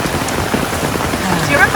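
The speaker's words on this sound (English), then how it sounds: "So much rain." Heavy rain in Bali pours down as a dense, constant hiss of drops hitting surfaces, loud and close throughout, with faint voices underneath.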